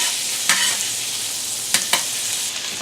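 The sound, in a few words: minced garlic and onions frying in olive oil in a pan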